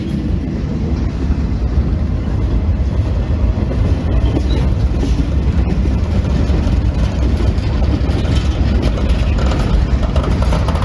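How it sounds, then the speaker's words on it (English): A train rumbles past at Horseshoe Curve in Altoona, Pennsylvania, a loud, continuous heavy roar of engines and rolling cars that holds steady throughout, with no voices. "Pretty cool train, too."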